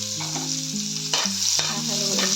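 Ginger sautés in a hot pan for a chicken and beef sotanghon soup, a loud constant sizzle broken by a couple of sharp scraping stirs.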